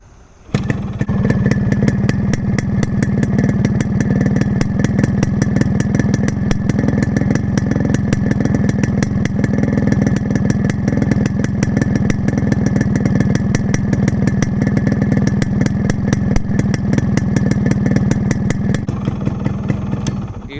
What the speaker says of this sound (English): Just start the bike.